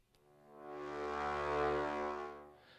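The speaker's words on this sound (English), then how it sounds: "And then from Albion One, I take the low brass, which sounds like this." Albion One low brass sample: a deep, sustained brass chord swelling smoothly to a broad peak before tapering off, isolated with no talking or other sounds.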